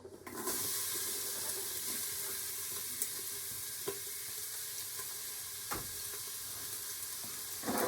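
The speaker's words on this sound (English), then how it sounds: "And when that heats up, we will add our onions." Onions fry in a preheated pot, giving a steady, close sizzle that holds level throughout, with a few faint clicks and knocks over the hiss and no talking.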